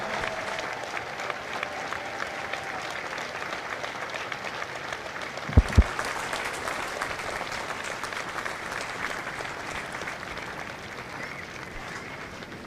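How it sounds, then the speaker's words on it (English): Graduation crowd at Marine Corps Recruit Depot San Diego applauds Marines in long, steady, even clapping, with a couple of sharp thumps midway and faint voices underneath. "Ladies and gentlemen, a round of applause for their dedicated service to Corps and country"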